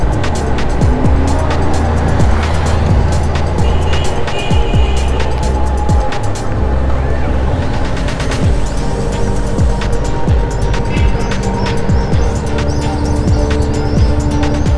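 A taxi drives past on a busy downtown Cairo street near the mosques, within a loud, steady wash of traffic noise, engine rumble and tire hiss that carries throughout, with no voices.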